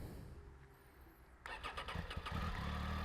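A Triumph Tiger 800 XCA motorcycle starts: a faint starter whir after quiet, then the three-cylinder engine catches with a sudden loud burst and settles into a rough, rising idle.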